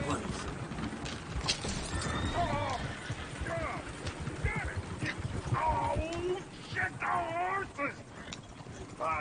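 A horse in a video game neighs and whinnies while its hooves clip-clop in an uneven rhythm, close and fairly loud, with voices talking over parts of it.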